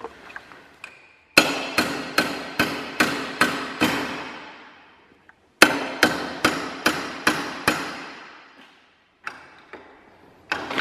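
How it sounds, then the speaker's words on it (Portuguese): Hammer blows knocking out a piston from a diesel engine, Mad Max style build: two runs of about seven sharp, evenly spaced metallic strikes, close and loud, separated by a short pause, with a few lighter taps at the end. "eu vou dar umas marteladas aqui e nós já arrancamos esse negócio aqui"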